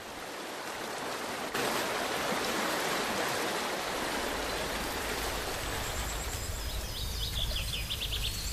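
Agay waterfall near Sefrou, Morocco, pouring as a steady, dense rush of falling water with faint birdsong above it.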